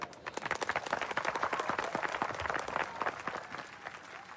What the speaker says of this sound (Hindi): चौबे जी के लिए एक बार से ताली बजाते हैं।